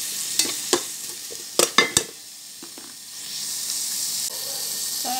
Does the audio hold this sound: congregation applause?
no